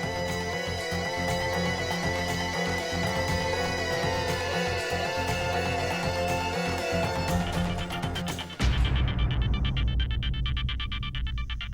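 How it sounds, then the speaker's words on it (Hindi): A phone ringtone plays steadily over a dense musical background, then cuts abruptly into a different, louder tone near the end. "मेरा फोन।"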